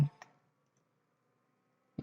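A computer mouse clicks a few times while someone works through a MySQL database tutorial: two sharp, quiet clicks close together, a long near-silent pause, then another click.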